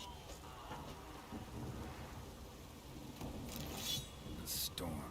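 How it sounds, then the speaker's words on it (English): Thunderstorm in the game Witcher 3, with steady rain hissing throughout and low rumbling thunder rolling underneath, a few brighter crackling bursts near the end. "The storm, damn it."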